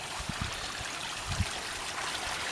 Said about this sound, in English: here we have the water now leaving the pond